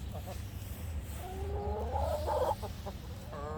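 Several chickens cluck and make short rising calls close by, over a low steady background rumble.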